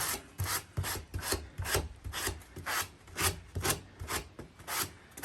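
A sanding sponge rubbed back and forth over the wooden edges of a bed frame, close-up rhythmic strokes at roughly two per second, steady and alone.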